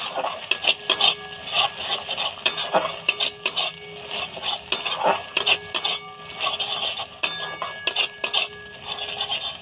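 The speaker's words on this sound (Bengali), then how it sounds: "নাড়াচাড়া করে নিলাম" A spoon stirs restaurant-style garlic chicken sauce with chili and tomato sauce in a pan, making close, repeated metallic clinks and scrapes in an irregular rhythm over a faint sizzle.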